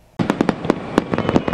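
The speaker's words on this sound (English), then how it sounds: "Fireworks in Pennsylvania can certainly be a confusing topic." Fireworks exploding over a holiday weekend in Pennsylvania, a rapid string of about a dozen loud, sharp crackling bursts in close succession after a moment of near silence.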